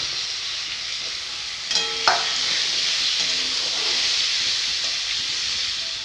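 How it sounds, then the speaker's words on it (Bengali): Potatoes and flat beans sizzle steadily in hot oil, a constant bright hiss with a couple of clinks from stirring partway through; no one speaks. "আলুগুলো ভেজে নেব ওর সঙ্গে সিমগুলো ভেজে নেব"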